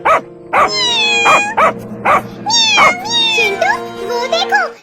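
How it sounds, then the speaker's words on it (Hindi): A dog barks sharply several times at a group of kittens while the kittens mew back with rising cries. The barks come as loud, close bursts in an uneven rhythm, with the mewing growing more frequent toward the end. "एक कुत्ता उन बिल्ली के बच्चों को परेशान कर रहा है"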